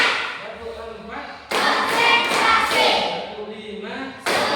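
Students clapping in rhythm on a teacher's count in a classroom, a few sharp claps amid an instructor's voice, with talk before and a burst of claps near the end.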